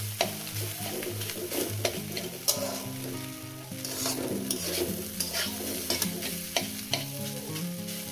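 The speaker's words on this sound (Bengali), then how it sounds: "কেটে নিয়ে আরও আমি এটাকে ভাজবো" Chopped egg and ivy gourd fry in a pan over medium gas, with steady sizzling broken by repeated scrapes and clinks of stirring throughout, and no voices.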